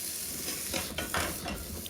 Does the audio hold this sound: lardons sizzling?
yes